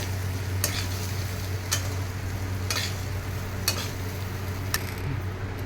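Rice is stir-fried in a pan for paneer pulao, with a steady sizzle underneath and sharp scraping strokes of the spoon about once a second, close and even in loudness, with no voices.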